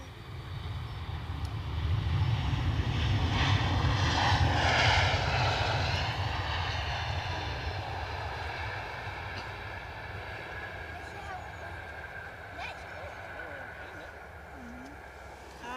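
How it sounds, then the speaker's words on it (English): A small propeller plane at Edinburgh Airport drones with a loud, rough engine roar that swells and slowly fades over about fifteen seconds, under a constant low rumble, with people talking nearby. "They make a lot of noise for a little plane."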